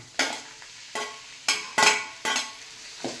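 Chilli powder and tomato fry in oil, with about six rhythmic spoon strokes scraping through the pan over a soft sizzle, close and alone.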